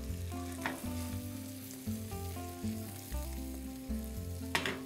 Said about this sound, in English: it's time to cook up the zucchini and squash for the coconut crusted perch. Got our butter heated up.